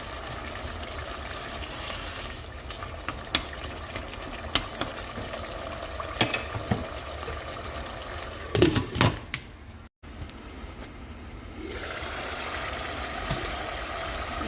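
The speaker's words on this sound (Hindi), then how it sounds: "इसको अच्छी तरह से भून के फिर ऑयल डालूँगी" Mutton masala with tomatoes and yogurt frying in a pan, a steady close sizzle running throughout, with a few sharp clatters of stirring in the middle and a brief dropout before the sizzle resumes.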